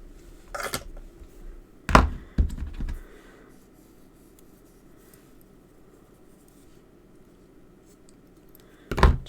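Paper being trimmed for a handmade greeting card: a few sharp, brief cutting and sliding strokes, one at the start, a pair close together soon after, and one at the very end, with a long quiet stretch between.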